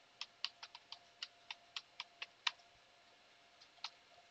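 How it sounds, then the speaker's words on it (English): Keys tapped on a computer keyboard, a quick run of about a dozen crisp clicks with brief pauses, then two last presses, close and fairly quiet with no voices. "You just type your IP address."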